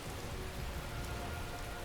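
Steady rain falls in the video game Skyrim, a dense, even hiss of drops on surfaces with no breaks and no voices, fairly soft in level.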